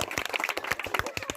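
Audience at a village magic show clapping in a quick, uneven burst of many hands, fairly close and lasting just over a second.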